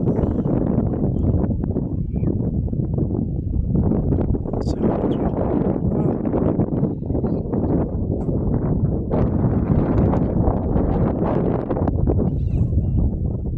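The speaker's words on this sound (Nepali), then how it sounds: "शान्त जग्गा हावा चलिराखेको" Wind blowing across open desert in Kuwait, a steady loud rumbling roar buffeting the microphone throughout with gusty surges.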